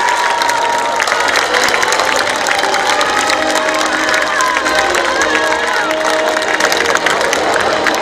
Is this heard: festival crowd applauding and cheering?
yes